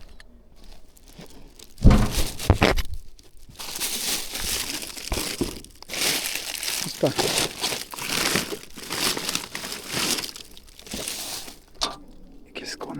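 Paper crinkles and crumples in loud bursts close by, rustling continuously with a brief word spoken amid the handling noise.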